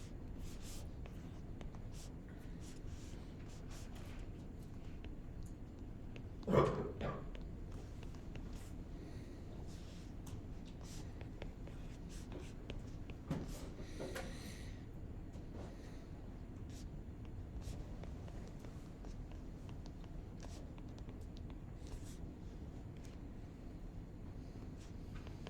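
Chalk or marker writing on a classroom board during a lecture produces faint, intermittent scratching and tapping under a steady room hum, with one louder knock partway through.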